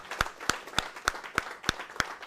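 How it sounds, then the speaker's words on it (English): A few evenly spaced, sharp hand claps ring out one after another at a steady rhythm in a seminar room, each clap distinct and fairly close, with no talking over them. "for a bigger round of applause, his team"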